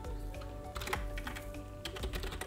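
Quick, close clatter of typing on a computer keyboard, with keystrokes in fast irregular bursts over a steady low hum.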